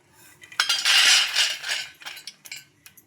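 Fried peanuts are tipped from a kadai onto a plate with a close clatter of a metal spoon scraping and clinking against the pan, a dense burst of rattling followed by a few lighter taps.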